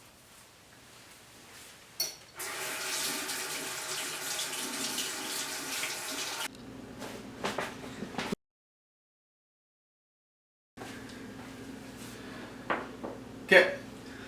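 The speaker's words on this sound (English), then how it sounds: "I'm going to wash my hands." Water runs from a kitchen tap for several seconds while hands are washed, followed by quieter splashes, handling knocks and a brief gap.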